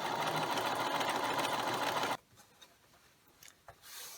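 Sewing machine edge stitching along the hem of a cloth napkin, a loud steady motor whir for about two seconds that stops abruptly, leaving quiet handling noises.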